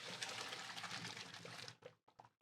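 Cooked rigatoni is drained, water pouring and splashing steadily into a sink for nearly two seconds, then a few short trailing splashes and drips, close and soft.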